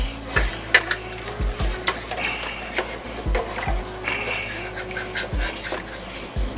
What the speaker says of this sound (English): So we're gonna stir in our beef broth here.